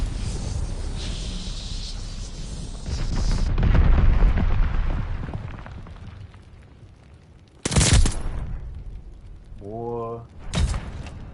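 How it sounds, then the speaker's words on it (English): Bombing-run explosions in Call of Duty Vanguard roar as a long, loud rumbling barrage, fading out and followed by sharp, brief blasts, with a voice speaking over part of it. "Teammate called a bombing run."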